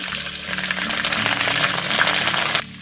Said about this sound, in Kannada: ಒಮ್ಮೆ ಎಣ್ಣೆ ಬಿಸಿ ಆಗ್ತಾ ಇದ್ದಾಗೆ ಸಾಸಿವೆ ಹಾಗೂ ಇಂಗು ಹಾಕ್ಕೊಳ್ತಾ ಇದ್ದೇನೆ ಫಸ್ಟಿಗೆ